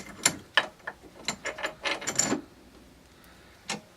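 A steel bolt is clamped in a bench vise, giving a series of sharp metallic clicks and ratcheting clanks in an uneven burst, then a pause and one final clack.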